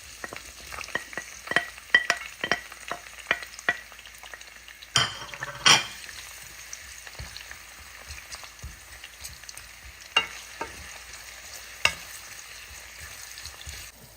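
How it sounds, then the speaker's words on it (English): Onions, chilies and curry leaves fry for a Durban prawn curry, a soft steady sizzle beneath sharp scattered clicks and scrapes of a utensil stirring in the pot, close by with no talking. "we're going in with the onions, chilies, and curry leaves"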